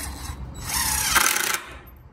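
A power drill drives screws into wood while building a chicken tractor, one short whirring run of about a second that rises and tapers off, close and alone with no talk.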